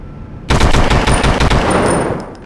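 Loud automatic gunfire from the video game 25 to Life bursts in suddenly after a moment of quiet, a rapid close volley of shots that rings out and fades, with no talk over it.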